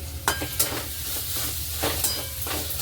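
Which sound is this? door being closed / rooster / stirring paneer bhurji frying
stirring paneer bhurji frying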